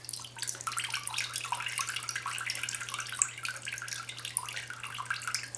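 Water splashes and trickles as dry bread chunks are briefly dipped into a bowl of water, a soft continuous wet sound with a faint steady hum underneath.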